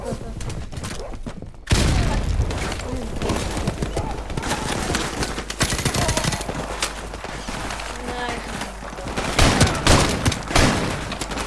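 Semi-auto shotgun blasts in Call of Duty 4 come as rapid, loud, repeated booms, with other gunfire and game noise around them and a voice talking over parts.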